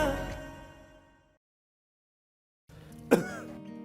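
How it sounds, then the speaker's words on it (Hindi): A single sharp cough from a person with a month-long cough bursts out after a pause, with faint background sound around it. "कब से खांसी है इनको?"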